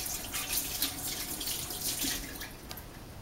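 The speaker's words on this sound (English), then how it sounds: "So, I need to wash my fingers because I've been touching" Running tap water over fingers at a kitchen sink while making traditional Bulgarian banitsa, washing off raw meat; a steady, close splashing stream flows without pause and no one speaks.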